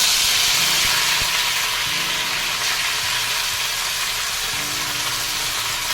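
Ingredients for chicken keema biryani fry in a pan until browned, giving a loud, constant hissing sizzle close by with a few faint stirring knocks and no talk.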